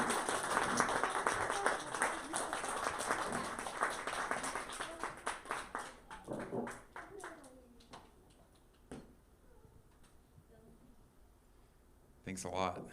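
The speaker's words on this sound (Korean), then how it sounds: "그래서 이 시간 큰 박수로 우리 제임스 목사님을 앞으로 모시겠습니다." Applause from a church congregation welcoming a guest pastor to the front during a Sunday service, a dense crowd clapping that fades to scattered claps, then a brief final burst near the end.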